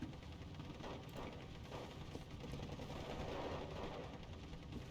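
Machine gun fire in the Steel Division II video game, with rapid bursts of shots rattling over a dense, steady roar of battle noise, moderately loud and continuous.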